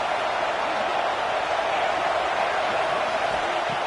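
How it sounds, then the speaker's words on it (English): Football stadium crowd at an Arkansas vs Kansas State college game, roaring steadily to back the defense during a red zone stand; a dense, continuous wash of distant cheering and noise with no pauses. "here comes the noise. This crowd is trying to inspire this defense to make a big red zone stop."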